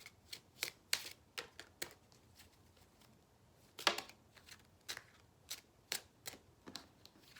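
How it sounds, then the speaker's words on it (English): Tarot cards are shuffled in a steady run of crisp riffling bursts at close range, each a short papery flutter with pauses between, and one louder snap partway through; no voices. "So I'm going to keep shuffling and see what else comes out."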